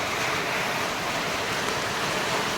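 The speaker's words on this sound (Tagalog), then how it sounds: "Walang tigil ang ulan" Heavy, nonstop rain falls over an outdoor aquaponics setup growing kangkong, a loud, even, broadband roar that holds steady throughout with no voices.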